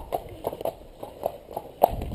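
A horse walks on a hard surface, its hooves striking in a steady, close clip-clop rhythm at moderate loudness, with no talking.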